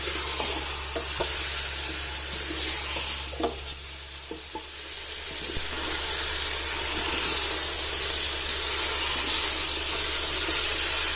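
Pieces of mutton frying and being browned in a pot for Kabuli pulao, with a loud continuous sizzle and steam hiss and occasional stirring scrapes, close up.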